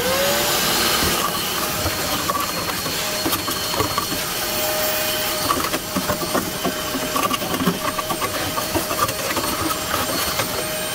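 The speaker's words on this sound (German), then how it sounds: "nehme ich ja noch diesen Staubsauger und mache innen diesen Behälter innen leer" A vacuum cleaner runs continuously, loud and close, as it empties the burner pot container of a Buderus oil stove heater, a steady roaring hiss with scattered rattles and knocks of debris being sucked up.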